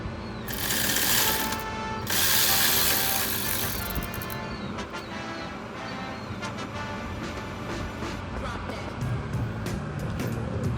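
A hand ratchet backs out 10 mm bolts on the filter box bracket of a BMW X7 engine bay, making continuous close mechanical clicking and whirring, with sharper ticks near the end.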